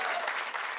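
An audience at a comedy poetry gathering claps briefly, a dense burst of applause that stays steady for under a second.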